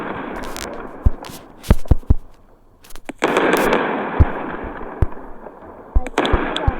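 Bombs going off in the WorldBox sandbox game: a rapid series of sharp, loud blasts and pops over a crackling, rumbling wash, with bursts clustering irregularly and a brief lull midway.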